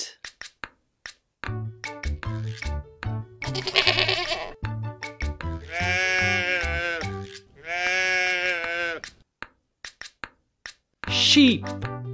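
A sheep gives several long, quavering bleats, loud and close, set against a light rhythmic music track with a brief pause between calls.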